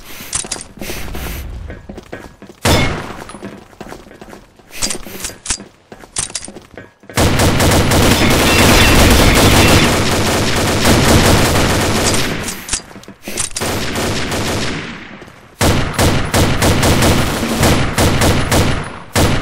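Bursts of M4A1 assault rifle fire in a first-person shooter round, with short clusters of shots first and then long, loud sustained volleys broken by brief pauses and mechanical clicks, all close and dense.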